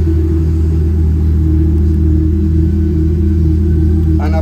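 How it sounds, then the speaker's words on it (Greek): A tuned Mercedes SLK W172 with an upgraded exhaust idles with a loud, steady, deep rumble, then blips the throttle briefly at the very end. "Αναβαθμίσαμε τον ήχο που κάνει το αυτοκίνητο."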